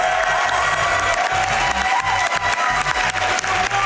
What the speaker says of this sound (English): Come on, give us some cheering.